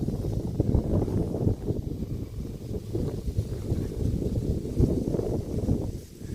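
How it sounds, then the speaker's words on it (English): Steady outdoor wind blowing across open water on Wolfe Island, a continuous rushing buffet of low noise with gusts rising and falling throughout. "See the wind blowing on the water there."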